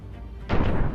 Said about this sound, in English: we are starting with an explosion